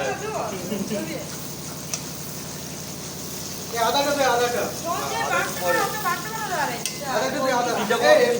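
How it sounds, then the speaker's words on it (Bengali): Garlic stirred in a frying pan for a rainy-day picnic meal, a steady low sizzle and scraping running throughout while people talk over it for most of the stretch. "রসুনটাকে একটু ভালো করে আমরা নেড়ে নিচ্ছি"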